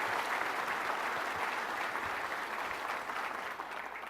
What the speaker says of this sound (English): Everybody give Camilla a big round of applause